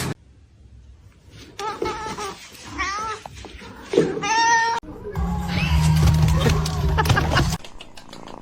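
A cat meows several times, loud and close, with drawn-out wavering calls spaced over several seconds, partly overlapping a steady low droning hum.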